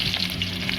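Dried red chillies fry in hot oil during outdoor village cooking, giving a steady, close crackling sizzle with no voices.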